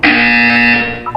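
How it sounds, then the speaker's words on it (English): A loud, harsh buzzer from the video game Portal 2 sounds as one sustained tone, then cuts off abruptly. "You will hear a buzzer."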